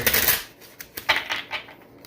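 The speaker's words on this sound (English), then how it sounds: "sometimes I guess we just love to hear them shuffle" A deck of tarot cards being shuffled close up, making a burst of riffling at the start and then several quick, crisp flutters and snaps with short pauses between them.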